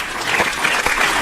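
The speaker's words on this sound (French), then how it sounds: "Est-ce qu'on a un applaudissement" A studio audience breaks into applause, a loud, steady patter of many hands clapping together throughout.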